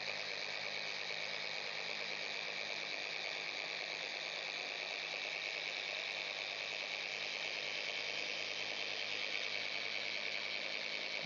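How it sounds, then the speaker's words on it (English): A dual action polisher whirs steadily and evenly as it polishes compound into a car panel, holding a constant close machine drone with no pauses or talking. "So we'll go and actually do proper machine polishing now."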